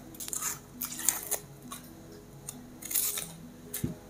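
A knife chops an onion roughly on a board in a roast chicken recipe, with quiet, irregular cuts and crisp clicks spread over a few seconds.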